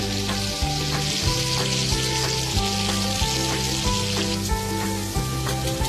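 Cabbage rolls sizzle steadily in hot oil as they fry toward golden brown, a dense continuous crackle with faint periodic taps close by, with no talk.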